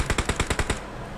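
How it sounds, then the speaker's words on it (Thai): Gunfire from the PUBG Mobile game comes as a quick burst of about seven evenly spaced automatic shots, loud and close, that cuts off abruptly and leaves a short fading tail. "ยิงเขาไม่โดนเฉย"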